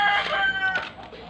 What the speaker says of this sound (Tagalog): Ito farm din ito. Maraming manok.